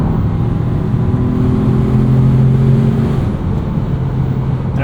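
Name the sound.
2025 Ford Maverick Lobo engine revving, downshifting into corners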